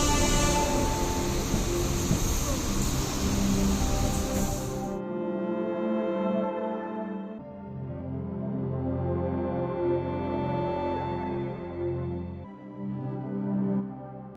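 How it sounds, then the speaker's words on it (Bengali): Passenger train running from Amta towards Howrah: a loud broadband rush of wheels and wind for the first few seconds, then a steady rolling rumble with repeating low clatter from the carriages, continuous throughout. "আর সেই ট্রেনই আমাদেরকে নিয়ে দুরন্ত গতিতে কখনো বৃষ্টি, আবার কখনো আলোর খেলা গায়ে মেখে এগিয়ে চলল তার গন্তব্যের দিকে"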